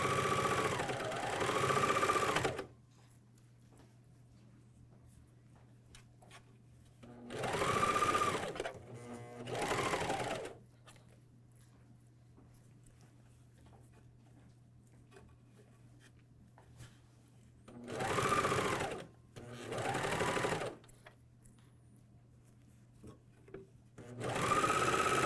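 A MyLock 454D serger stitches and trims a pajama top in four separate loud bursts of rapid mechanical whirring, each a couple of seconds long, with a quiet low hum between runs.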